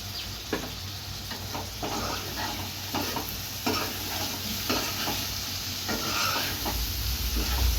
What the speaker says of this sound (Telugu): బాగా కలిసేటట్టు తిప్పుకోవాలండి